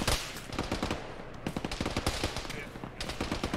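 Sustained automatic gunfire in a military video game, a dense rapid rattle of shots running nearly the whole time at moderate level, with some faint background activity.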